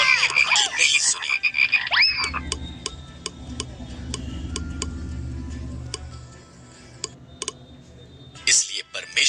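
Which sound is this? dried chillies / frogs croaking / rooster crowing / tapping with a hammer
frogs croaking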